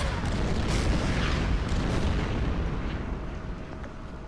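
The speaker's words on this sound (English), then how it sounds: "Fire the artillery down here." Artillery fire in the wargame Order of Battle, a dense rumbling boom with layered blasts that swells and slowly fades, heard alone without talk.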